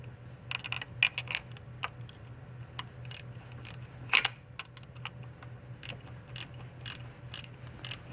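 A ratchet or hand tool makes small, irregular clicks and ticks while tightening the valve timing solenoid on a 2001 Toyota Highlander, close and quiet over a low steady hum, with no talking.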